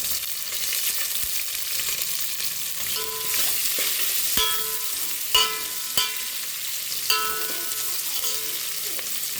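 Ingredients hit hot oil in a pan and fry with a steady broadband sizzle throughout, broken by a few sharp clinks of a spoon or utensil against the pan.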